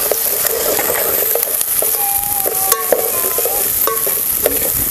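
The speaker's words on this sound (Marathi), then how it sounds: "तर आता आपण ह्यामध्ये घालूया हे लसूण आपण बारीक करून घेत होतो ना खलबत्त्यात ते घालायचं." Crushed garlic stirred into hot oil in a frying pan, a steady close sizzle with scraping spoon strokes and occasional sharp clinks, continuous and fairly loud with no talking.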